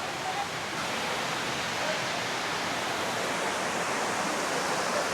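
Water from Tiger Falls near Tenkasi rushes down into a stream, a loud, steady roar of falling water with no breaks.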